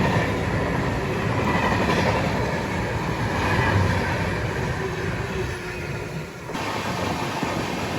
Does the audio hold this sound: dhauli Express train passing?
yes